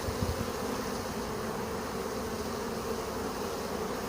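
Honeybees buzz in a soft, continuous hum around blooming dandelions, several insects droning close by with no talking.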